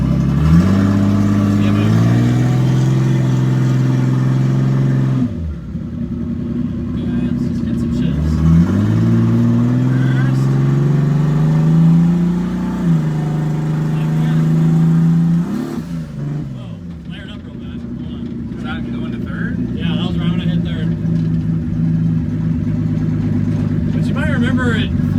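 Car engine revving and climbing through the gears in drive on a transmission that cannot use second gear, pitch rising and dropping with each shift, steady and close, with talk over much of it.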